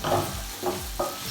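Vegetables for pancit sizzle in a hot pan as they are sautéed, with three distinct scraping stirs of a utensil over a steady frying hiss, close up.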